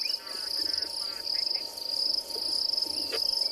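A grasshopper stridulates by rubbing its serrated legs against its body, making a steady, close, high-pitched buzzing trill that pulses continuously through the clip against quiet outdoor background.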